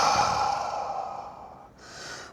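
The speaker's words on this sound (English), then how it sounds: "Exhale." A long, audible exhale during a breathing exercise in a low-impact cardio workout, a close breathy sigh that fades over about a second and a half, followed by a shorter soft breath.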